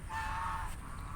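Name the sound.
ducks quacking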